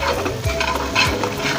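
Flour and oil are stirred in a skillet for gravy, with a close, soft sizzle under repeated scraping strokes of a utensil against the pan.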